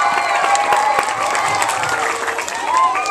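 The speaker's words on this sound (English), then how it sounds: "a wonderful round of applause" A crowd claps steadily throughout for a school principal at the Viva Florida 500 celebration, dense and sustained applause with a few voices mixed in.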